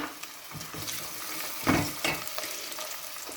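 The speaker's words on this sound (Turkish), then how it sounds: "Kavrulan soğanların üzerine küp küp doğramış olduğum bir tane orta boy patatesi ekliyorum." Onions and potatoes sizzle steadily in a hot pan, with occasional scraping and stirring noises over the frying.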